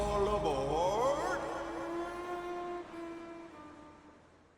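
A train horn sounds with a bending, wavering tone, then settles into a long sustained blast that slowly fades away.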